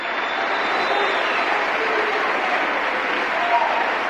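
A church congregation claps steadily and loudly, a dense continuous burst of applause lasting several seconds.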